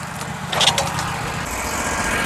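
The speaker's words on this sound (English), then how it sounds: "I'm only talking loud because there's a mill running and we're wearing ear protection." Woodmizer LT15 Go sawmill running while milling lumber, a steady engine hum with a brief higher-pitched whine in the middle, close and continuous, no talk.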